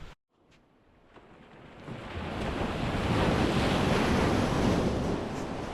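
Sea waves wash onto a Konkan beach, swelling from quiet into a loud, steady roar of surf mixed with heavy wind buffeting the microphone.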